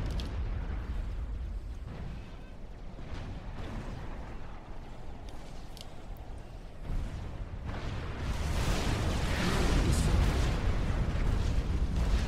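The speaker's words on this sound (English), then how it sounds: "We're going to see a com bomb." Massive commander unit death blast, a com bomb, in the real-time strategy game Supreme Commander 2, swelling into a loud, sustained rumbling roar over battle noise and lingering for several seconds.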